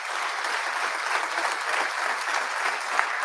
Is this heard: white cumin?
no